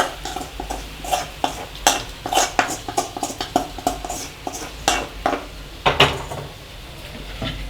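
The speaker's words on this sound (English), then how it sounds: "Give it a good mix." Boiled cassava (kappa) mixed with tempering in a pot for a Kerala meal, giving repeated close scraping clanks of a spoon against metal in an uneven rhythm over a faint sizzle, without speech.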